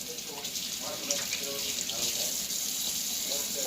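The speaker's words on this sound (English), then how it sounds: "let me wash my hands before I get my zester." Hands are washed under a running kitchen tap, a steady close hiss of water splashing into a sink throughout, with faint clatter of movement underneath.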